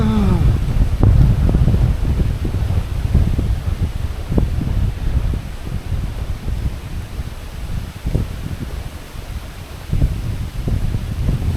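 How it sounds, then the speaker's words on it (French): Steady, heavy wind buffeting the microphone on Koh Pha Ngan, a low rumbling roar throughout with occasional gusty thumps and rustling. "Je pense que vous m'entendez peut-être pas avec tout le vent."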